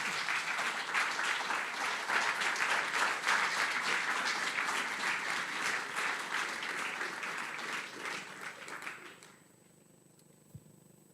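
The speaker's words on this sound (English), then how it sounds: "let's give a big applause to our professor" Audience applause at a university inaugural lecture for a professor, a dense, steady roomful of clapping lasting about nine seconds before tapering off into near silence.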